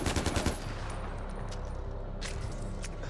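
Rapid burst of AK assault rifle fire in Far Cry 4, a quick string of loud cracks in the opening half second, then a steady low rumble of game ambience.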